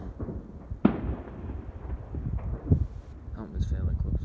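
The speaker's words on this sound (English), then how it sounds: "There's fireworks from all sides." Sharp bangs of Hogmanay New Year fireworks in Edinburgh pop at a distance, one louder crack standing out, amid people talking and a rumbling background.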